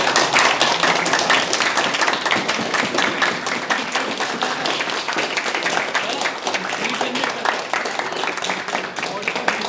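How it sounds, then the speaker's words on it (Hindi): A classroom of students clapping their hands together, a dense, continuous patter of many hands at close range, steady and loud throughout without a break. "सबको क्लैप योग करना है, ताली बजाओ सब लोग, बजाओ बजाओ बजाओ, अरे जोर से बजाओ यार"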